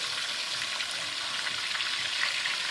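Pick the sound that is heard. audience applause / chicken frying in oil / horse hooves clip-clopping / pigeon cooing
chicken frying in oil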